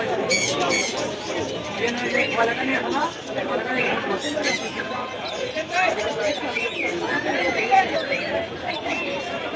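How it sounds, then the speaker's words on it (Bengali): Birds at a crowded bird shop in the Tongi market, with chirps and clucking mixed into busy crowd chatter throughout, voices close and the birds a continuous background. "প্রচুর পাখি আছে পাখির দোকানগুলো"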